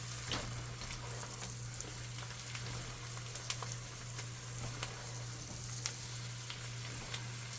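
Chicken pieces cooking in butter in a pan, giving a faint, even sizzle with soft crackles and pops above a steady low hum.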